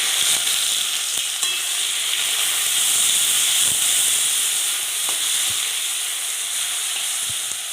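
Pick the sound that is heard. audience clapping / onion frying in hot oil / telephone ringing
onion frying in hot oil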